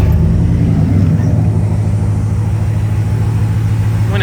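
A 1995 Camaro Z28 V8 engine with the heater core bypassed rumbles steadily at idle after starting, loud and close, with a deep, even low-end drone throughout.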